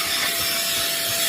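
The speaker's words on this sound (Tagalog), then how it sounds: "Ito yung portable vacuum cleaner na super duper lakas." A powerful portable vacuum cleaner runs while cleaning a car, giving a steady, loud, high-pitched whine and hiss with a constant tone and no pauses.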